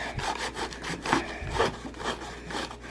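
Rough rubbing and scrubbing with a scrubber sponge on painted wood in uneven back-and-forth strokes, close up, with no voices.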